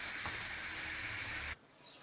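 Oil heating in a pan for beyti kebab gives a steady, bright sizzle and hiss for about a second and a half, then cuts off sharply, leaving quiet kitchen background.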